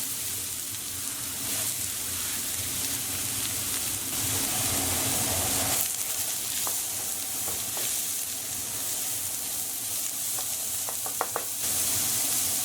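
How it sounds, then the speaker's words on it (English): Onions fry in about three tablespoons of olive oil in a pan on medium-high heat, with a steady sizzling hiss throughout, occasional stirring, and a few small clicks near the end. "I'm going to add about 3 tablespoons of olive oil. And we're just going to add in our onions."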